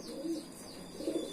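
Domestic racing pigeons being felt by hand give two soft throaty coos, one early and one near the end, quiet and close with no speech.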